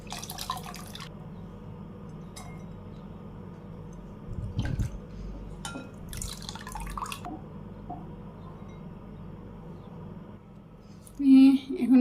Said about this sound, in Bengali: এখন ভালো করে পরিষ্কার করে ধুয়ে নিই।